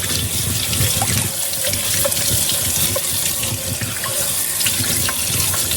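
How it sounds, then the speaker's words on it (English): Warm water runs steadily from a sink tap as juicer parts are rinsed under it, a continuous close gushing splash with no speech. "All of the parts basically just rinse off, but make sure you have some type of stopper in your sink to catch any of the shreds"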